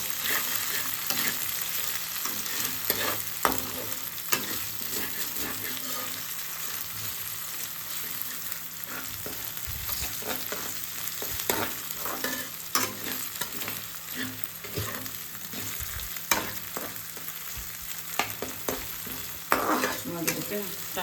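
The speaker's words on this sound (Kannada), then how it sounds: "ಇವಾಗ ಜಿಂಜರ್ ಗಾರ್ಲಿಕ್ ಪೇಸ್ಟು ಅದರದ್ದು ಹಸಿ ವಾಸನೆ ಹೋಗೋವರೆಗೂ ಫ್ರೈ ಮಾಡಿ." Ginger garlic paste and green chillies frying in a pan and being stirred repeatedly, with a continuous close sizzle broken by frequent scraping and clinking of the spoon, and no talking.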